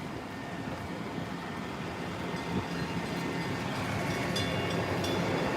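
A train pulls into a station in Douglaston-Little Neck, Queens, New York, as a steady low rumble that slowly swells and grows a little louder, heard from the platform with no talking.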